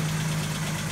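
Suzuki Jimny JA11 engine idling close by, a steady low even hum with no other sounds over the short span.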